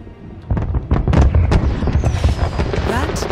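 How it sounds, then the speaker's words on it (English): Fireworks in the Hitman game's Paris fashion-show level burst in a loud, rapid string of booms and crackles, layered and continuous, with faint voices in the mix. "Fireworks? Wait. Is that Victor's grand finale?"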